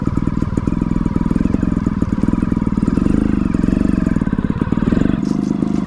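A Gas Gas 300 trials motorcycle engine runs steadily at low speed with a rapid, throaty two-stroke putter, close and loud, with a brief change in tone near the end.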